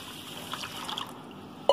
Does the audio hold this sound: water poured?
yes